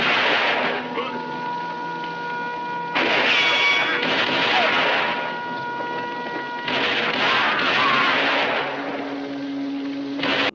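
Bombing explosions in the 1964 western A Fistful of Dollars, heavy rumbling blasts in several surges over a steady roar, with faint tonal hums and no clear speech.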